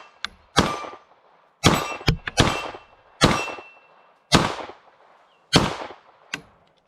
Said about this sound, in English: Let's fire the Beretta.